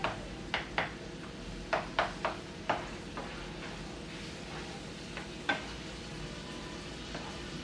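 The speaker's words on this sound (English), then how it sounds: "want to brown the beef, get it chopped up real nicely" Ground beef browns in a pan, a constant close sizzle punctuated by a dozen sharp spatula taps and scrapes as the meat is chopped up.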